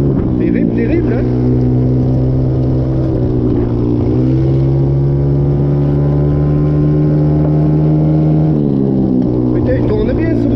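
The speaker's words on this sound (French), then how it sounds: "il tourne bien ce moteur là" A small buggy's engine runs loud and close, holding a steady drone and then revving up and easing off in surges, with a voice heard over it.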